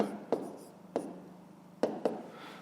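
A pen writes numbers for a fifth-grade maths exercise, making four short, crisp taps and strokes on paper close by in a quiet room.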